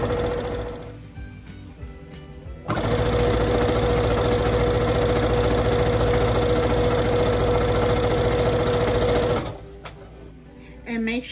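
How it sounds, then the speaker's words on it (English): A sewing machine stitches ribbon trim onto a tutu: a steady, loud mechanical whir running for about seven seconds, with quieter start-stop stitching before it and a short burst again at the end. "And then we're going to back stitch. Okay, and then we start to"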